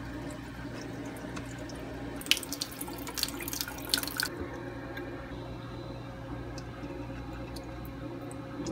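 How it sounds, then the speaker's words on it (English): Tap water runs over a batch of sprouting seeds during a rinse, a close, steady splashing stream that swells for about two seconds in the middle, over a low background hum. "Just letting the water run over all the seeds."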